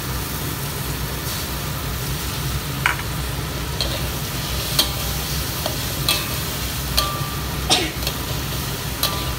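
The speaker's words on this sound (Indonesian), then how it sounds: "sekarang kita masuk daun mint atau pudina" Fresh mint leaves stir-fried with softened tomato in a pan, a continuous sizzle with scattered scraping clicks of a spatula against the pan at irregular intervals, close and alone without talk.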